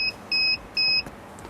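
Homemade egg incubator alarm giving three short electronic beeps, each about a quarter second long, evenly spaced, loud and close, with no one talking.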